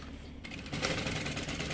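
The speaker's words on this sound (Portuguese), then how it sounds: "Agora, a gente só vai fazer uma costura nos 4 cantos para segurar esse forro no lugar" A sewing machine runs in a quick steady rattle, stitching a fabric lining at the corners of a double baby-bottle holder, the motor starting up and continuing close and alone.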